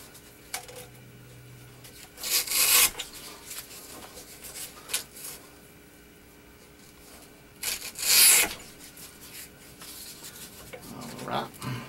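Sandpaper rubbed by hand across a surface, two separate bursts of close, loud, brief scratchy rasping separated by quiet, with small scuffs and knocks in between, no talking.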